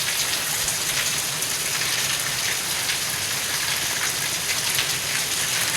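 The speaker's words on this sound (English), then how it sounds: "It's raining a lot from all over the place." Heavy rainstorm pouring down steadily around a newly built house, a dense continuous hiss of rain hitting surfaces close by, loud and unbroken with no voices.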